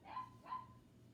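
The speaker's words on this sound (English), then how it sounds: "if you hear some dogs barking in the back" Dogs bark faintly in the distance outdoors, two short yips in quick succession against a quiet background.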